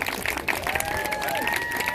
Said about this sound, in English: if our play doth please thee, then do give us the clap